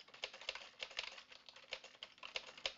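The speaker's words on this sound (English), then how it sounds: "you can say add a comment and then I can type a message" Typing on a computer keyboard while writing a comment, a steady run of light, quick key clicks with uneven rhythm, close and alone with no voices.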